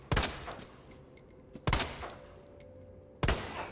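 Three loud gunshots from the video game Resident Evil 2, each a sharp close crack with a short decay, spaced about one and a half seconds apart, with faint game tones between.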